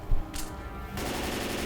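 Gunfire in the video game Left 4 Dead 2 aimed at a large hulking man in a cage, a short burst of rapid shots after an initial thump, heard alone with no talk.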